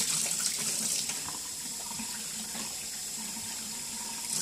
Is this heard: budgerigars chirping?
no